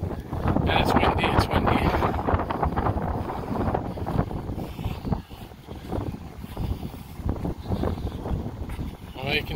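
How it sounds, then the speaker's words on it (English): Gusty wind on a street in Montreal's NDG neighborhood buffets the microphone in rough low rumbles, rising and easing, while a person talks faintly underneath. "And it's windy."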